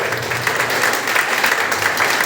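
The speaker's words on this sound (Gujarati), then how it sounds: "જોરદાર તાળી કરી દો સાહેબ." Loud, dense audience clapping for a company CMD at a community gathering, sustained steady applause from a large crowd without pause.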